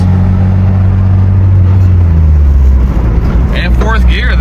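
A Ford Courier pickup truck cruising, its low engine rumble loud and close, dropping in pitch as a gear change comes through, with brief talk near the end.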